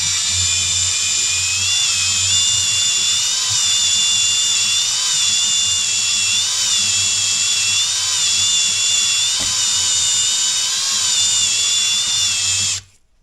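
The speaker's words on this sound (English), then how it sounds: "how much pressure you're putting on the trigger for how fast your drill is going to spin" A power drill spinning a cylinder hone whines steadily at high speed for about thirteen seconds, close and loud, with a low rumble underneath, then cuts off abruptly.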